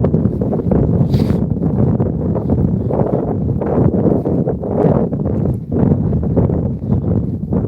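Strong, biting wind blows steadily across an outdoor microphone in South Dakota, a constant loud broadband roar with gusty swells and rustling, no voices heard.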